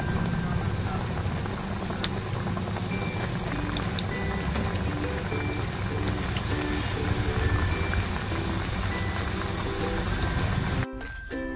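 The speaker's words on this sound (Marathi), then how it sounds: "अशा प्रकारे सगळ्या चकल्या फ्राय करूया" Moong dal and wheat flour chakli frying in hot oil, a steady dense bubbling hiss that runs continuously at close range with no talk, cutting off abruptly near the end.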